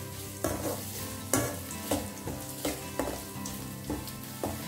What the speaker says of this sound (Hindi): प्याज को हमें ज़्यादा ब्राउन नहीं करना है, हल्का से इसे सौटे करेंगे।